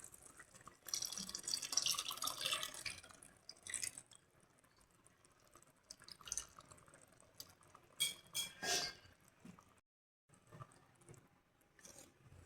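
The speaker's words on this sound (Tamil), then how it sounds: "புளி கரைசல் ஊற்றியாச்சு." Tamarind water is poured into a pot of simmering arai keerai greens, giving liquid splashing in two bursts, a longer one early and a shorter one later, with faint kitchen clatter between and no talk.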